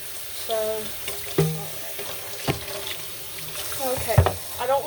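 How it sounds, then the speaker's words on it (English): Water running from a kitchen tap while dishes are rinsed at the sink, an intermittent splashing stream with clinks and handling noises close by, and a voice briefly under it. "I don't want to use up all my hot water running it out of that, so I'm just rinsing it off"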